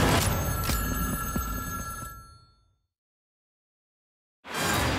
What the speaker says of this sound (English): You hear a phone ring and it could be anybody.